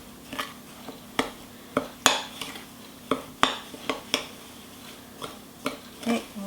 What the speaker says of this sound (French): On vient tout simplement commencer à mélanger.